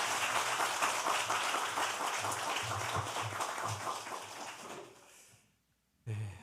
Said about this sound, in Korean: 큰 박수 아닙니까? 큰 박수.